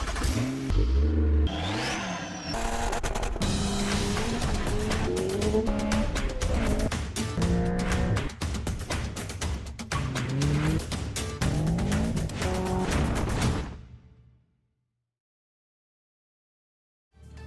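A new C8 Corvette Z51 with a 500-horsepower V8 pulls away and accelerates hard through a run of rising revs and gear changes, loud and close, before cutting to near silence at the end.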